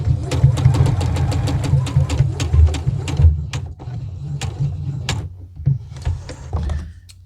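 A sewing machine basting a belt carrier to a dress waistband within the seam allowance, a close, steady rapid stitching whir that slows into spaced stitches before stopping.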